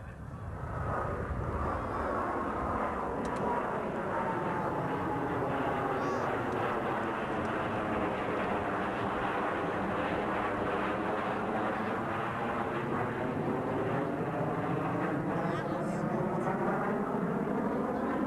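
Blue Angels F/A-18 jets fly overhead in a tight diamond formation at a 1991 military air show at Quonset ANGB, a sustained loud jet roar with a sweeping pitch shift as they pass.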